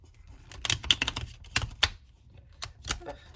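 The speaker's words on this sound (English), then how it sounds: "think I'm going to shuffle one more time." Quick, crisp riffling taps of tarot cards being shuffled close by, in short bursts with brief pauses between.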